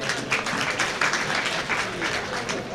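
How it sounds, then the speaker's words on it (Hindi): An audience at a mushaira in Wardha breaks into steady applause to welcome a poet, a dense wash of many hands clapping at moderate distance, with faint voices mixed in. "आप तमाम से गुजारिश करता हूँ कि ज़ोरदार तालियों से उनका आप लोग इस्तकबाल करें"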